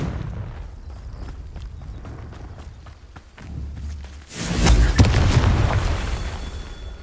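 A Confringo spell explodes in Hogwarts Legacy, with a loud booming blast and rumbling burst that builds after a stretch of softer rhythmic in-game sound, then slowly fades.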